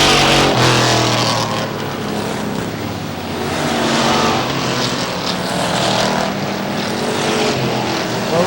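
Race cars roar in a dense, continuous pack during the final laps of a short-track race at Star Speedway, New Hampshire. The loud, overlapping engine drone swells and eases as the cars pass, with no speech.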